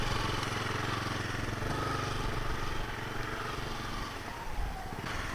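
A motorcycle engine holds a steady throttle during a riding lesson, with a continuous, even drone that stays close and fairly loud for the whole stretch.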